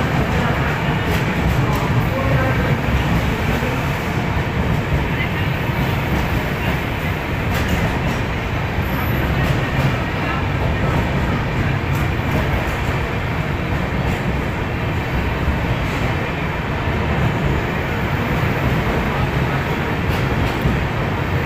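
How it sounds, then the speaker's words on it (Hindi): At Gwalior Junction, the Bhopal Shatabdi Express pulls away from platform one with a continuous loud rumble and rolling clatter of coaches that holds steady throughout, under faint station ambience. "Gwalior junction platform number 1 departure bye Bhopal Shatabdi express."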